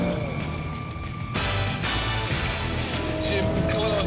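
A Porsche 911 at speed on a race track makes a loud, continuous engine and road roar with a rise in pitch partway through, with wind noise and a voice talking over it.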